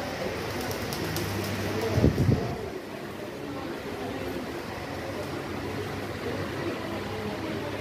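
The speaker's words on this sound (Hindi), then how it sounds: "कबूतर हैं यहाँ पर" Low pigeon coos sound briefly near the start, then fade into a steady outdoor hiss of wind and ambient noise.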